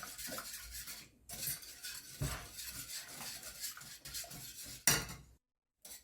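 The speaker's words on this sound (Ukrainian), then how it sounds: "Помішую, щоб не пригоряло." A spoon scrapes and swishes through thickening custard in a pot, in uneven strokes with a sharp clink near the end, then silence.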